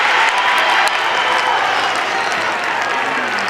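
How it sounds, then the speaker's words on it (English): A country football grand final crowd at the QEO, Bendigo, roars and applauds after a goal, a loud, steady wash of clapping and cheering. "The crowd roars at the QEO."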